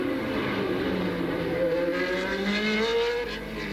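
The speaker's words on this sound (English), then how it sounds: "down towards the tunnel, on the brakes, down the gearbox, turn the car left." A 1983 Formula One race car at the Detroit Grand Prix street circuit screams past, its engine pitch climbing and falling through gear changes, loud and sustained, with no talk over it.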